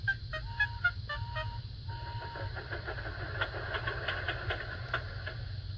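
Cartoon steam tank engine Thomas pulls into a station with short whistle toots and a rumbling chuff under a low engine drone, moderately loud and steady.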